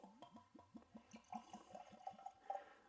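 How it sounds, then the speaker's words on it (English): Glenlivet Founder's Reserve single malt whisky poured from a bottle with a cork-lined plastic top into a glass, a close, steady run of rhythmic glugs with liquid splashing over about three seconds. "That is a very, very nice, satisfying glug of the bottle."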